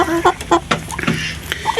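Merawang chickens, a large Indonesian breed, give a few short clucks and calls in quick bursts, fairly close and clear, with gaps of quiet between them.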